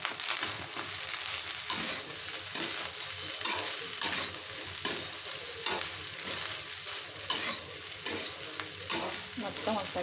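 Egg fried rice being stirred and tossed in a hot pan, with a steady sizzle and repeated scraping strokes of the spatula at an even rhythm, close and alone.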